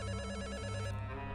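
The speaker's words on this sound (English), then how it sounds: "And he finally picks up the phone." A telephone rings in the video game Return to Shironagasu Island, a rapid repeating electronic bell trill, steady and clear, with no voices over it.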